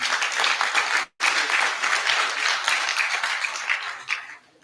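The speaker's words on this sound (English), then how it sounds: "Eric, can we give you a hand of applause?" Audience at a University of Liberia faculty association general assembly breaks into dense, steady applause that carries for about a second, cuts out briefly, then resumes and fades away at the end.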